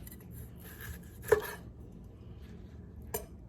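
A knife cuts into a cast-iron pan-seared steak on a board, with two sharp knocks against the surface amid soft clinks and faint scraping, close and otherwise quiet.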